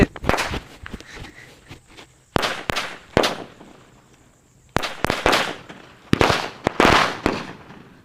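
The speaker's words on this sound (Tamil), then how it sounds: "நாட்டு வெடியில் இந்த பட்டாசு வந்து போட்டுருவோம்" Several sharp, loud country-made firecracker bangs burst in clusters, each crack followed by a brief crackle, with quiet gaps between the volleys.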